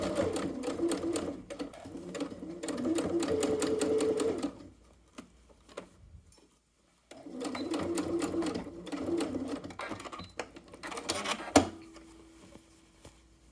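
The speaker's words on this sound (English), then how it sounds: "we pin together that lining sleeve opening and just stitch close to the edge to close it" Sewing machine stitching a closed jacket lining sleeve opening on a bomber jacket, two runs of fast even mechanical whirring separated by a pause, then a few clicks and a short final burst.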